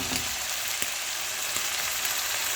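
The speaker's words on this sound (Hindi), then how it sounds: "टमाटर डाल के मैंने इसको 1 मिनट तक फ्राई किया हल्का सा।" Tomatoes sizzle in a pan while cooking kohati qeema, an even, continuous crackling hiss with a few sharper pops, close and alone with no voices.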